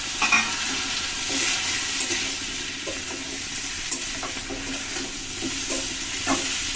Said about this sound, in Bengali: ভালো করে নেড়ে চেড়ে দিয়ে নিচ্ছি। মাছগুলো দিয়ে দিলাম একসাথে।